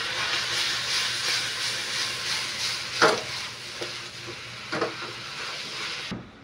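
Chicken breast and cabbage stir-fry in a hot pan with a steady close sizzling hiss, broken by a few soft knocks of stirring before it cuts off abruptly.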